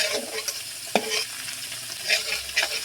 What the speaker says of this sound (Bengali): রসুনটা দিয়ে এইভাবে ভালোভাবে আমি নেড়ে চেড়ে নিয়ে লাল লাল মতো করে রসুনটা আমি ভেজে নেব।